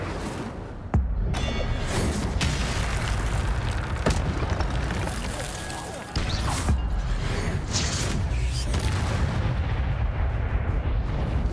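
Loud fiery blasts and booming spell impacts from the Incendio fire spell in Hogwarts Legacy, with sharp bursts near 1, 4 and 6 seconds over a constant roar of combat effects.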